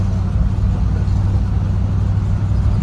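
A 1950 Fargo truck fitted with a Ford rear end drives along in second gear, its engine a steady low rumble close by with constant road noise and no breaks.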